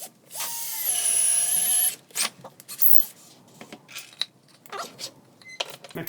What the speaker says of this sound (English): So the first thing we're going to do is drill a hole in my anchor wood